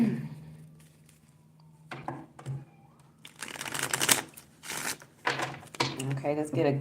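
A deck of tarot cards is shuffled up close, with quick papery riffling bursts after a quieter start, while someone talks softly in between.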